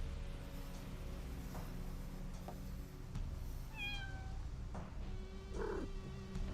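A cartoon cat meows from inside a locked room in the point-and-click adventure game Deponia, a short rising-falling call around the middle over a steady hum of background game music.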